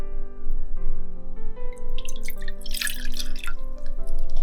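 Water pours into a dish for instant noodles, splashing and trickling in an uneven stream with gurgling bursts, close and fairly loud over a steady low hum.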